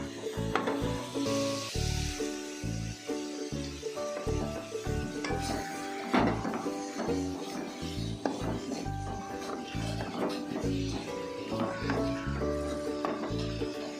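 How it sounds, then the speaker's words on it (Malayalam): Sliced onion sautéing with salt in a pan for Kerala-style kappa biriyani, a steady close sizzle with scraping stir strokes throughout, no voices. "ഇത് നമുക്ക് നല്ലതുപോലെ ഒന്ന് വഴറ്റിയെടുക്കാം ഈ സവോള"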